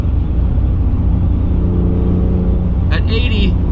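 A BMW E36 M3 engine cruises at about 80 mph and 3,600 RPM, a loud steady droning hum with road rumble inside the car, and someone talks over it.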